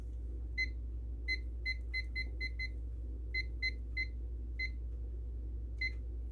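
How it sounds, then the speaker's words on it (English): A kitchen timer being set chirps out a series of short, bright electronic beeps in irregular clusters, close and clear over a low steady hum. "I'm going to set the timer for 12 minutes."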